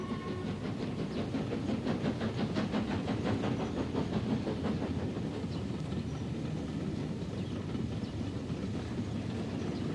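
A Fairburn steam locomotive hauling a local passenger train towards Halifax in the Pennines during the 1960s, giving a steady continuous rumble with rhythmic chuffing texture, moderately loud throughout.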